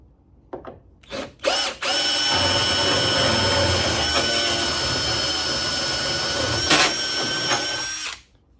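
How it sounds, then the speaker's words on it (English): A power drill turning an oiled reamer through a part on a 1972 VW Super Beetle, a few short starts then a steady loud high-pitched whir for several seconds before spinning down. "I got some oil to put on this reamer."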